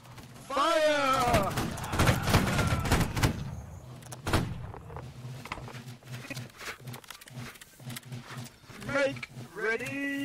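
Musket volleys from Holdfast: Nations at War battle lines, with a loud crackling burst of fire early on and another sharp crack near the middle, heard under shouted officer commands and ongoing battlefield noise.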